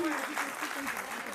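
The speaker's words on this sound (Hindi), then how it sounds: "इस बच्चे की हिम्मत के लिए जोरदार तालियां प्लीज एवरीवन" Applause at a school annual function for a child on stage, a continuous, fairly distant wash of many hands clapping with voices mixed in.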